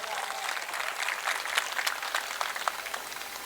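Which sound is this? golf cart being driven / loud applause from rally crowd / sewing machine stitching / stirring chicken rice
loud applause from rally crowd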